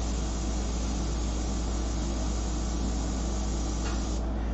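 Steady airbrush hiss spraying paint for a full-color fashion portrait, a continuous close airy rush that holds almost unbroken before a brief dip near the end, with no voices.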